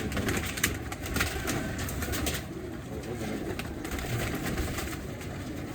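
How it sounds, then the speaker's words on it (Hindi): Soft pigeon cooing in a noisy, steady background hum, with low murmuring calls repeating through the clip. "कबूतर मेरा ये मैं दिखाता हूँ आपको"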